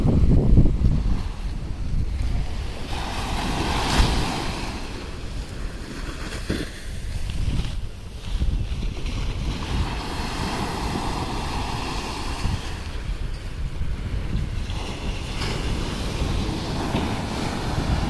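Waves breaking on Gopalpur beach in Odisha at night, a steady low roar of surf with swelling surges every few seconds, buffeted by heavy wind noise on the microphone.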